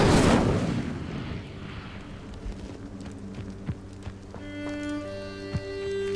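Incendio fire spell cast in Hogwarts Legacy on Nintendo Switch: a loud fiery whoosh bursts at the start and fades over a second or two, followed by low rumbling, scattered small impacts and sustained tonal game music.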